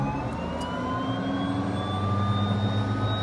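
An aircraft turboprop engine cranks on its starter with the fuel pump running, giving a steady, loud whine that slowly rises in pitch over a dense rumbling roar, with no talking.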